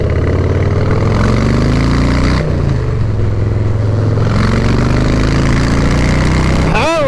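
A motorcycle's 107 cubic inch engine idles with a loud, deep, steady throb close by, its pitch shifting slightly up and down before a brief rise at the end.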